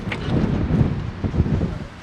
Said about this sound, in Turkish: Çok fena rüzgar var.